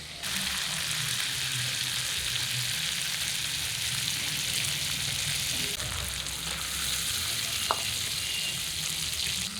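Spices with tomato fry and are stirred in a pan for a carp fish curry, a steady loud sizzle broken by occasional scraping stir sounds, with no talking.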